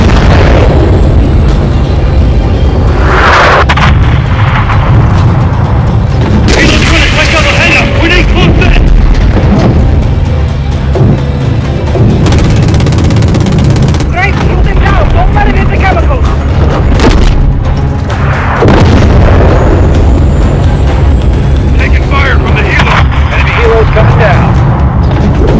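Heavy gunfire and booming explosions take down an enemy helicopter in Call of Duty Modern Warfare 3, loud and continuous with repeated bursts and blasts, mixed with voices and radio chatter.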